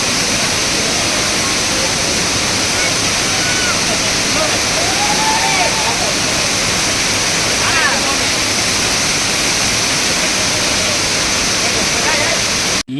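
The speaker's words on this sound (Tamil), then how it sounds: "அருவியில் எப்போவும் தண்ணி வந்துக்கிட்டே தாங்க இருக்கும்" Waterfall at Hogenakkal Falls roaring in a dense, steady wash of noise for the whole stretch, with faint voices and a few bird-like chirps barely rising above it.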